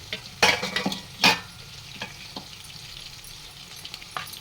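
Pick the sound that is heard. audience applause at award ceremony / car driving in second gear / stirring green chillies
stirring green chillies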